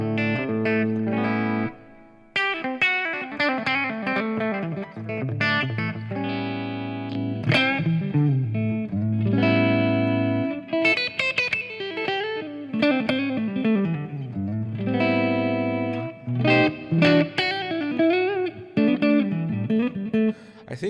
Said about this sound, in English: this is the rig with only amp, cabinets, and reverb, and this is the sound.